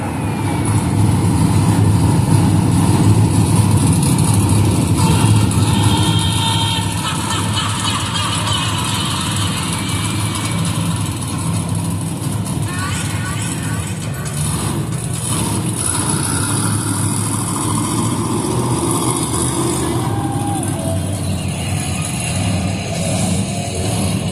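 A monster truck engine idles at a Monster Jam arena track, a steady low rumble that runs throughout with faint talk in the background.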